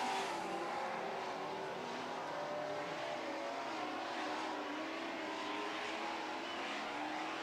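Super trucks race together through a heat on a track, engines droning in a steady, dense roar that stays loud and constant throughout, with no pauses or individual passes standing out.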